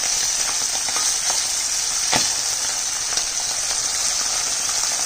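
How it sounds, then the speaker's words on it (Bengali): Fish frying in hot oil, a steady loud sizzle with spitting crackles and one sharp pop, continuous for the whole stretch with no talking. "এইভাবে সব মাছগুলো আমি ভেজে নিচ্ছি।"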